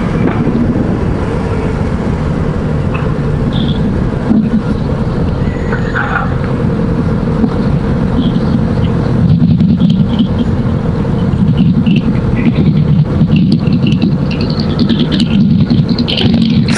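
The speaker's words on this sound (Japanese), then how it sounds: "アイドリング高いよ、今。" A motorcycle engine idles high and steady at about 1300 rpm, a loud continuous rumble echoing under an expressway, with no talk.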